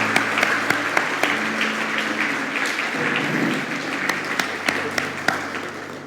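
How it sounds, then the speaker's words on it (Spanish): A church congregation gives a sustained round of applause after a spoken prayer, dense even clapping with a few sharper claps standing out near the front. "Fuerte aplauso"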